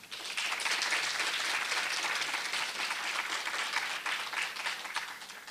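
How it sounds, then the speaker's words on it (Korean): Graduate students and guests applauding at Korea University's KU-KIST 2018 entrance ceremony, a steady, even wash of many hands clapping for several seconds, moderately loud and easing slightly at the close. "큰 박수 부탁드립니다."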